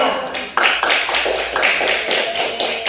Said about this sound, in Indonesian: tepuk tangan untuk kelompok 4, 2.